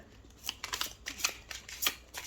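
Tarot cards shuffled and drawn by hand, with a quick run of crisp riffling snaps and papery flicks, close and fairly soft, no voice.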